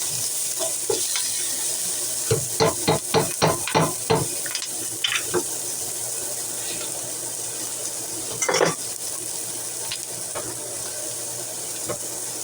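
A spoon knocks and scrapes against a pot of cooking green tomatoes in a quick run of clinks, then a few scattered taps, with a steady sizzle and simmer underneath throughout.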